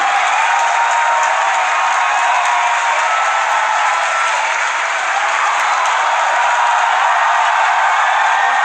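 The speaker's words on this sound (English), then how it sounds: "You can hear our crowd going crazy right now." A crowd cheering and applauding during a Falcon Heavy side booster landing, loud continuous roar of many voices and clapping, heard from a distance and thinned as if through a broadcast feed.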